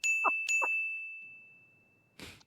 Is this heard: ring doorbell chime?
yes